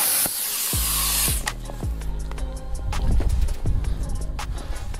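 A CNC plasma cutter cuts a sprocket from half-inch steel plate with a loud, close hiss. After about a second and a half it gives way to clanking, tonal metallic sounds and background noise.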